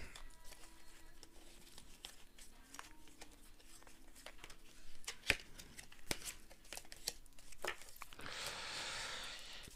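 Tarot cards being shuffled for a card draw, a soft close series of flicks and riffles with small taps, quiet throughout and ending in a brief rustle.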